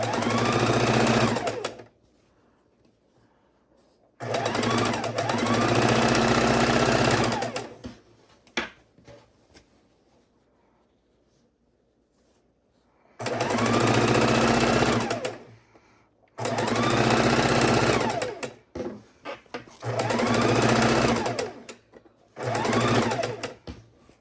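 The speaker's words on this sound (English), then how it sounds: "So we are going to go ahead and sew these 2 strips together" Two quilt fabric strips are sewn together on a sewing machine, heard as five loud, close bursts of rapid stitching separated by quiet pauses.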